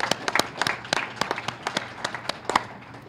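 Clapping from an audience at an AAUW Work Smart networking event in Boston: a few distinct, sharp claps over a softer patter of hands, moderately close and fairly sparse, with no talking.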